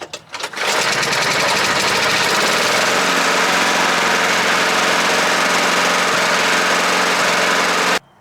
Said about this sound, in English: we'll throw in my old John Deere just for comparison.